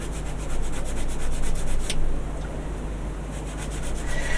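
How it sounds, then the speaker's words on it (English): Sandpaper rubs back and forth over a seam line on a plastic Zoids Liger model kit part, a loud, close rhythmic scratching that goes on throughout with a short pause partway. "So let's give it a good old sand to see if we can get rid of some of that."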